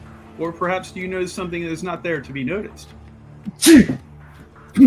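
A single sharp sneeze bursts out near the end, following a stretch of people talking.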